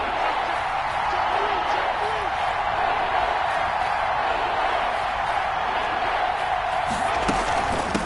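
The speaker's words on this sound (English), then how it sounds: "The crowd getting into it as we come up on a big 3rd down." Stadium crowd noise in a PS4 football video game, a steady roar swelling ahead of a big third down, continuous and fairly loud throughout with no clear peaks.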